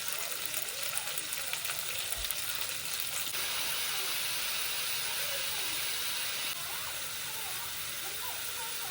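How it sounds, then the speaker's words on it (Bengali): Pieces of hilsa fish being sautéed bhuna-style in a pan produce a steady, dense hiss of frying that holds evenly throughout at moderate level. "এখন ভুনা করব"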